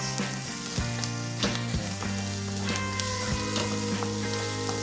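Celery, garlic and white onions sizzle steadily in a hot pan with oil, a close, continuous frying hiss broken by occasional stirring clinks and scrapes.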